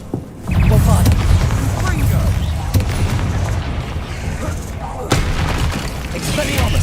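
Bombarda spell explosions in Hogwarts Legacy, deep booming blasts with a few sharp bursts over a rumbling game soundscape, loud and close, with a voice calling out spells.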